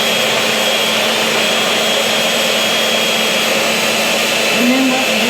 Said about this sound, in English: what we're doing is we're whipping air into it.